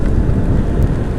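Steady broadband rain wash mixed with low rumbling road and engine noise during a winter motorcycle ride, continuous and fairly loud throughout with no speech.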